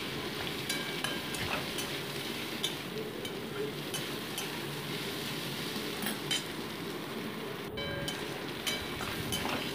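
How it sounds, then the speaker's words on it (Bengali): Potato, green chilli and ginger fry in a pan with a soft, steady sizzle, broken by occasional light clinks and scrapes of a stirring spoon against the metal. "আলুটা, কাঁচা লঙ্কা, আদাটা কিন্তু ভাজা হয়ে এসছে প্রায়।"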